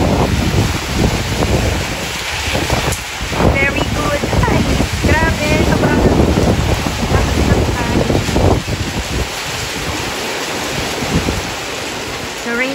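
Heavy rain pours outdoors onto house plants set under a tree, a steady loud wash of broadband hiss with wind-like rumble that persists throughout.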